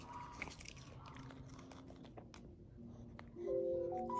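A dog chews and crunches on pieces of pear sprinkled with four kinds of supplements, giving close, irregular bites and mastication sounds, with a few brief tones near the end.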